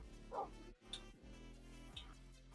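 Dog barks from Minecraft, a few short yips and woofs with a whimpering tone over steady low game background sound, in a multiplayer session where skeletons roam.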